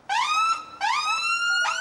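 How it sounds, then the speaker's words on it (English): A UK ambulance siren wails in three quick rising sweeps, loud and close, each tone climbing sharply before the next cycle begins. "Put your sirens on."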